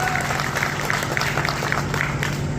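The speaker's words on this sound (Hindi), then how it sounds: "बिल्कुल जोरदार तालियां होनी चाहिए," Loud, steady applause from a seated audience at a goat industry show in Pali, India, a dense unbroken wash of clapping with crowd murmur and a low hum underneath throughout.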